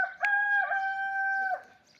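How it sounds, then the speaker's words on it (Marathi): A rooster crows once outdoors on a farm, a loud, clear, drawn-out call lasting about a second and a half, then trailing off into quiet. "कोंबडा आरवतोय बघा पाठीमागे. कसं भारी आरवतोय कोंबडा"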